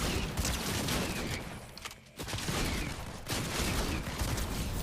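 Dense, continuous gunfire from the video game Fortnite, with rapid overlapping shots filling the mix and a short lull midway before the firing resumes at full loudness.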